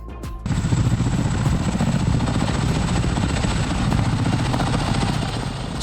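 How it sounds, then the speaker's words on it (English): A CH-47 Chinook twin-rotor helicopter's heavy rotor thrum drones steadily and loudly throughout, with a constant high whine above the low beating blades. "CH-47 Chinook, a heavy-lift helicopter with twin rotors"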